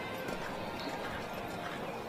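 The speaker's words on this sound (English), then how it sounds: "making her way down the center line with this absolutely stunning young horse" Hoofbeats of a 16.3-hand, 9-year-old Irish sport horse walking down the center line of a dressage arena at a national championship, a steady muffled clip-clop under broad crowd and arena noise.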